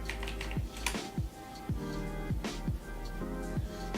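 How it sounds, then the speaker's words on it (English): Fingers type on a computer keyboard, a series of close, light key clicks in an uneven rhythm over a steady tonal background hum, with no speech. "Type in disk utility."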